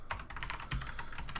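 Rapid clatter of keys as code is typed on a computer keyboard, a quick run of close, crisp taps with no voices.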